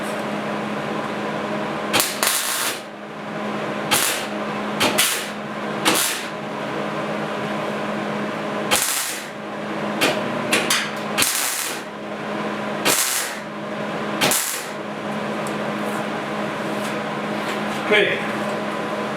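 Welding on a cab corner repair panel of a 1956 Mercury, a steady crackling buzz broken by repeated short bright bursts and pauses, close and fairly loud, with no speech over it.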